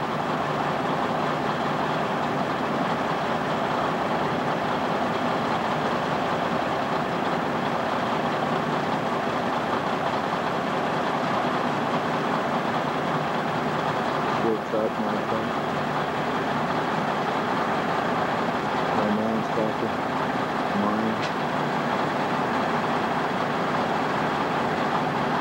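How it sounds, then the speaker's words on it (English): A Caterpillar D8N bulldozer working near a big hill: a loud, continuous engine drone and rumble that stays steady throughout, with a few faint clanks and squeaks from the machine. "There's Dan's tractor."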